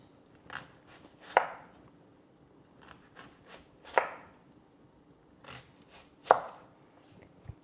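A knife chops a red onion on a board in separate crisp cuts, a few soft taps and then sharper strikes spaced a second or more apart, close and quiet.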